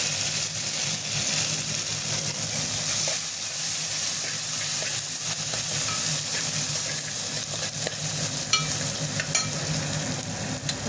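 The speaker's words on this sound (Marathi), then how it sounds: "आपला कांदा आता व्यवस्थितपणे फ्राय झालेला आहे" Onion frying in a pan while making sambar, giving a steady, close, continuous sizzle with faint stirring scrapes throughout and no voices.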